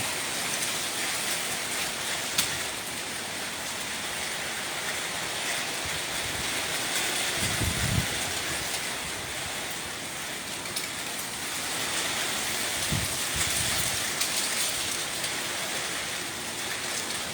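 Heavy rain pours steadily during a thunderstorm at a bungalow in Isan, Thailand, with gusts of wind, a dense continuous hiss that swells slightly, and a couple of faint low rumbles.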